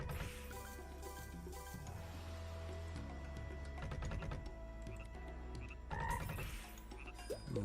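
Quiet croaking toad sounds from the online casino slot game Tai the Toad, mixed with electronic chimes and tones from the game.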